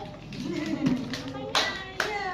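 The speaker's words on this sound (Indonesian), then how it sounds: "Dibawa tepuk tangan" Children and adults clap hands at a sixth birthday party, with a few sharp claps standing out amid cheerful voices and chatter.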